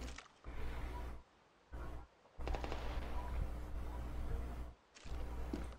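Rapid gunfire bursts in the mobile shooter Standoff 2 during a ranked match, heavy and sustained in long rattling runs broken by short pauses, with a constant low rumble underneath and no speech.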